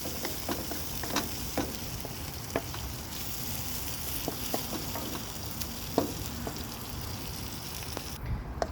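Eggplant with egg fries and is stirred in a pan, a steady soft sizzle broken by scattered clicks and taps from the utensil, close but fairly quiet.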